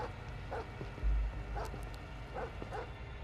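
Dog barking in the video game Nuclear Nightmare, several short yelping barks spaced about a second apart over a low rumbling game ambience.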